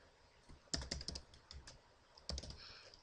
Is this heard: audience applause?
no